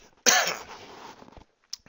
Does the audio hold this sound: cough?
yes